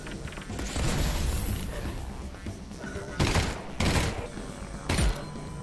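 Gunfire in a first-person shooter game: broadband ambient battle din with three sharp, loud reports spaced about a second apart near the end, no talk.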